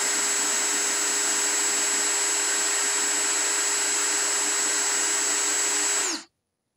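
A DeWalt DCD709 cordless brushless drill spinning freely at speed setting 2, a loud, steady high-pitched motor whine held alone for about six seconds before winding down and stopping.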